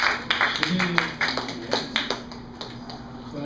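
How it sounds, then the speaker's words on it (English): Audience at a stand-up comedy show at The Canvas clapping along in uneven bursts, several sharp claps close together, fading toward the end with a voice talking over them. "Clap it up."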